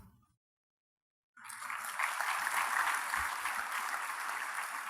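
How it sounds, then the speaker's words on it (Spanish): A church congregation bursts into steady applause after a moment of silence, the clapping rising quickly and holding loud and dense for several seconds. "Dele ese aplauso al Señor."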